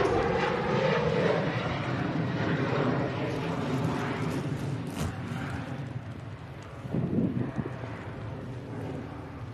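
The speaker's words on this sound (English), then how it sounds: "There is an aircraft already departing." An Austrian Embraer jet departing Manchester Airport roars steadily from a distance, its engine rumble rising and falling under gusts of wind noise across the microphone.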